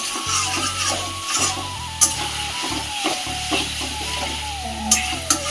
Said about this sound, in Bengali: এই তো ডিমার আলুটা দিয়ে কষিয়ে আর জল ঢেলে দেবো একটু পরে তেলটা ছেড়ে গেলে